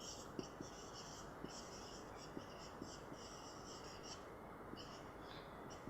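Algebraic expressions are written out during a ninth-to-tenth grade math lesson, giving faint, close scratching strokes in short bursts with brief pauses, over a steady low room hiss.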